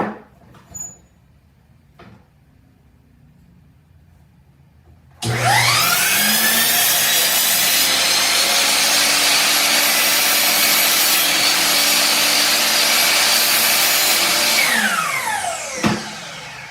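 Power saw cutting wood for a DIY bar stool, starting abruptly after a few quiet seconds and running loud and steady for about ten seconds before winding down, with a brief knock near the end.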